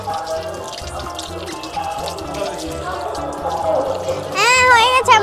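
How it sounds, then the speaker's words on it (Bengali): Tap water runs and splashes as a child washes her hands during a pretend cooking game, with a continuous close stream, a brief whistling squeak near the end and a voice talking over it. "আমি হাতটা ধুয়ে আসি"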